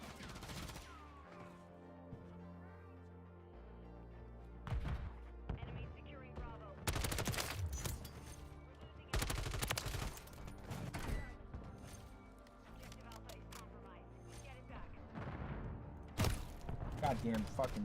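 Call of Duty league match gameplay with bursts of gunfire and sniper shots, loud clustered volleys separated by quieter gaps, with game sounds and talking mixed in.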